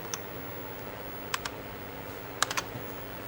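A computer keyboard gets a few sparse, faint key clicks in small clusters over a quiet room background, with no talking.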